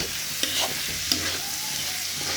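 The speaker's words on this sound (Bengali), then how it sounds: "মশলার সাথে ভালো করে ডালটা ভেজে নিতে হবে আর কি।" Lentils (dal) fry in a pan with spices, a steady broadband sizzle with two sharp scrape-and-clink stir strokes from a utensil, close and continuous with no voices.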